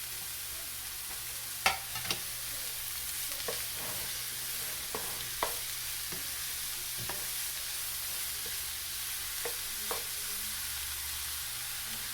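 Chopped onion goes into a Kerala thoran stir-frying in a pan, giving a steady soft sizzle with scattered sharp scrapes and clicks of a spatula at irregular intervals, with no voices.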